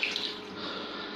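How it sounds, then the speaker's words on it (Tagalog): A little water poured into a pot of pork adobo, a brief steady close trickle and splash heard on its own. "maglalagay din ako ng konting tubig, konting tubig lang."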